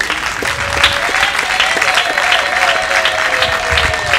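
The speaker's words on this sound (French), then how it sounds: "est-ce qu'on peut faire mieux à titre d'applaudissement, s'il vous plaît?" Loud applause from a crowd fills the room, a dense, continuous clatter of clapping hands sustained without a break.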